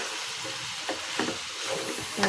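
Boiled banana flower, pre-treated with turmeric and salt, is stirred in a pan with fried potato and coconut. A quiet, steady sizzle runs throughout, broken by a few soft scraping strokes of the spoon.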